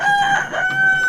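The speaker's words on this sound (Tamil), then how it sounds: "சேவல்களோட சத்தம்," Roosters at a house in Korattur, Chennai, where goats and ducks are also kept, give a loud, close, sustained crow that rises and holds its pitch over about a second, with no talk.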